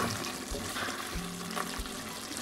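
Water poured into a pan of banana masala curry on the stove, a short soft splashing and trickling pour at moderate closeness.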